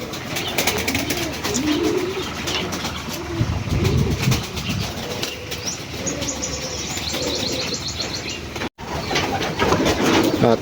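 Racing pigeons coo repeatedly in a loft, soft overlapping low coos near and far, with occasional chirps and wing flutters and a brief dropout near the end; no talking.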